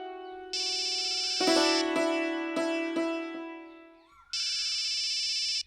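A mobile phone ringtone plays loudly and close by as a melodic electronic tune. It pauses briefly and then starts again.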